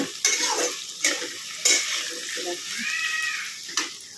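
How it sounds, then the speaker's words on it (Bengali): Spice masala is stirred and fried in a kadai, with steady sizzling and repeated spatula scrapes and knocks against the pan, while a faint voice-like sound rises in the background. "এবার কিছুক্ষণ মশলাটা কষাবো, মশলাটা দেওয়া হয়েছে, এটা কষানো হবে কিছুক্ষণ।"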